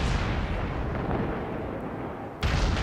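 Heavy naval gunfire from the German battleship Tirpitz in World of Warships, a deep rumbling roar sustained and fading, then a sharp fresh blast near the end.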